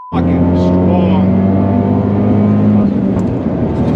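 Abarth 124 Spider with a Eurocompulsion Phase 3 big turbo pulls hard in second gear slightly uphill with a passenger aboard, a loud, close, rising engine drone that holds strong throughout.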